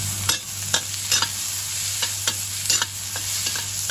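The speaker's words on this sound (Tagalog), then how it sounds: "Ilutuin na natin yung ating luya para mabango." Ginger being stir-fried in a pan: a steady low sizzle broken by repeated sharp scrapes of a spatula, about a dozen in quick irregular rhythm, close and fairly loud, with no talking.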